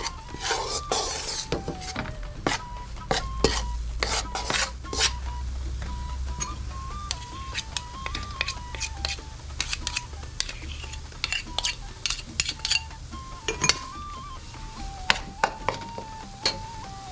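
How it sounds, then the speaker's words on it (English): Spoon scraping and clinking against a pot while chicken curry is stirred at home, faint intermittent metallic taps over a low background hum. "So I'm gonna keep stirring this."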